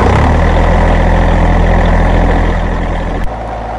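A truck engine running in a steady, loud low idle after being restarted while sorting out a fuel problem, with a deep rumble that drops to a quieter idle near the end.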